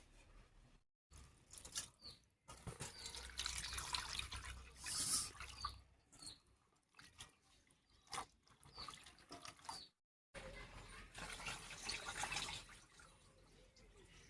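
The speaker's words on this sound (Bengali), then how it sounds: "এবারে জল পাল্টে পাল্টে ধুয়ে নিচ্ছি" Bottle gourd shoots and leaves are rinsed by hand in changes of water, giving intermittent splashing and dripping bursts with short pauses, close and moderately loud, with no talk.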